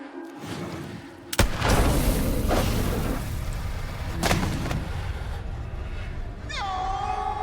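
A gunshot cracks sharply in The Quarry horror game, followed by a sustained roar of rumbling noise and a second, softer blast. A thin high whine rises near the end.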